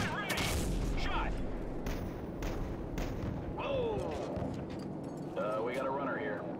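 Artillery and gunfire in the video game Call of Duty 4: Modern Warfare, booming shots and bursts of fire heard under frequent radio chatter and shouted callouts, fairly quiet overall.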